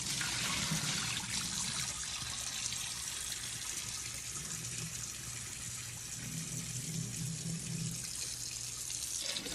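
Tap water running steadily while rice is rinsed in a pot, a continuous close splashing hiss with faint swishing of grains as it is stirred, with no talk.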